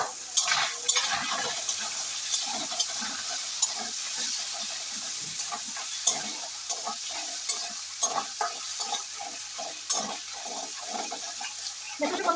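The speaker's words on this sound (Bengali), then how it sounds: "কড়াই কিন্তু একদমই লাগছে না সুন্দরভাবে পনিরটা আমার ভাজা হয়ে যাচ্ছে" Paneer fries in a wok with a pinch of turmeric, a constant close sizzle overlaid by busy, rhythmic spatula stirring and scraping throughout.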